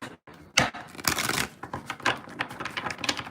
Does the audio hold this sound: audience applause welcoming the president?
no